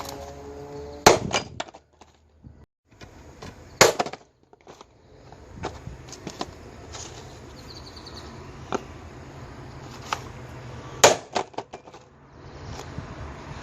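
Ball bearing being driven out of a belt-drive idler pulley: a few sharp, close metallic strikes spaced several seconds apart, separated by quieter scraping and handling noise.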